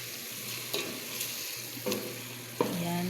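Chicken being stirred in a sizzling frying pan, a steady hiss of hot oil broken by three distinct scraping spatula strokes, close and clear with no talking.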